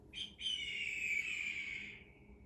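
A rooster crows once, close and loud, with a short opening note followed by a long drawn-out call that fades at the end.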